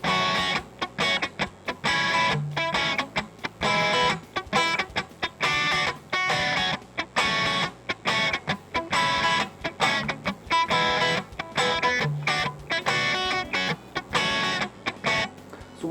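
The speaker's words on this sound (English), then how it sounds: "what I'm doing here is basically doing it down and up with the palm muting" Electric guitar with distortion played in tight palm-muted scratching strums, steady down-and-up rhythm with choppy percussive bursts, loud and close throughout with no talking.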